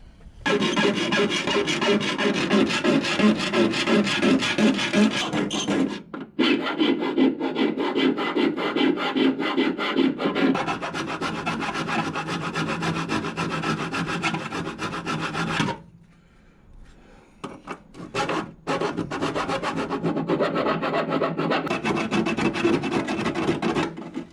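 Metal grinding or filing on cut sheet metal in a Triumph TR7 footwell, a loud, close, continuous rasping with short pauses between passes.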